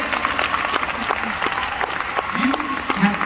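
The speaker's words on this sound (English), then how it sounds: "Give yourself a round of applause." An audience applauding itself, a loud continuous round of clapping with scattered sharp claps, faint voices murmuring underneath.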